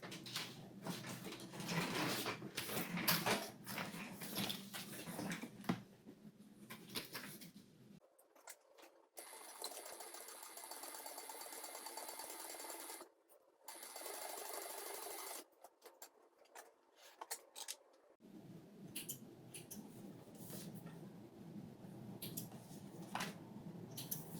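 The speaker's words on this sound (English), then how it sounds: "you'll sew 1/4 of an inch seam allowance" A sewing machine runs a quarter-inch seam while a pattern is being sewn, its motor whirring in several stretches of steady stitching broken by short pauses and rustling fabric.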